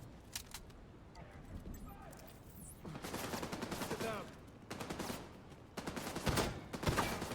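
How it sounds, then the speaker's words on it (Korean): Gunfire and explosions in the shooter game Tom Clancy's The Division 2, with clusters of rapid shots and sharp blasts coming in several waves over a steady background. "여기 저기다가 스마트 커버를 딱 하고 쏘면은 터져요"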